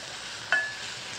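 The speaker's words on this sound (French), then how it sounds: "Chunks of vine-ripened tomato are added." Chunks of ripe tomato drop into onions frying in a pan. A steady, soft sizzle runs throughout, with one brief louder splash as the tomato lands.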